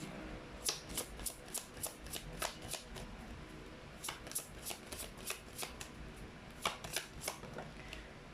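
Tarot cards being shuffled and pulled from a deck, a run of quick crisp riffling bursts in an irregular rhythm, close and fairly quiet with no talk over them.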